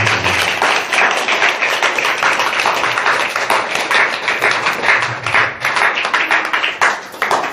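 An audience at a school annual day claps loudly and steadily for the headmaster and assistant teachers, a dense, continuous wash of many hands with no pause throughout.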